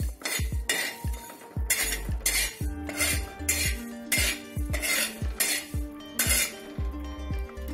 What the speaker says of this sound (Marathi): त्यामध्ये आता आपण धने भाजून घेऊ. त्यामध्येच आपण बडीशेप, जिरं आणि दालचिनी सुद्धा टाकणार आहोत आणि मीडियम फ्लेमवर हे भाजून घ्यायचे आहेत.